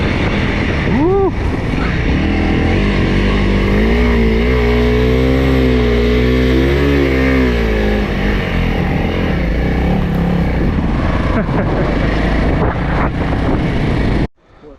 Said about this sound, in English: Last couple of sections are basically just wide open throttle the whole time.